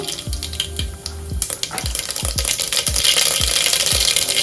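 Mustard seeds spluttering in hot oil for sambar, sharp popping crackles that grow denser over a rising sizzle, with several clinks of a spoon against the pan.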